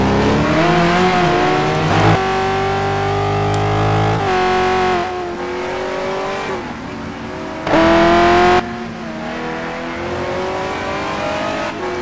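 Corvette C6R GT1 race cars lapping Sebring in a racing video game, engines droning and revving through rising and falling gear changes, a loud sustained tone with an abrupt shift partway through and no voices.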